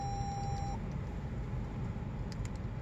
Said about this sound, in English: You hear the beep, the remote's now programmed